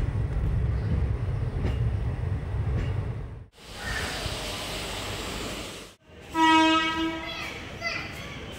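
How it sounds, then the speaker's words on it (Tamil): The Palaruvi passenger train, Thoothukudi to Palakkad, rumbles past nearby, its horn sounding in bright sustained tones near the end, with children's voices and chatter in the background. "ஸோ இது பார்த்தீங்கன்னா தூத்துக்குடிக்கு புதுசாக கிடைச்ச ட்ரெயின்"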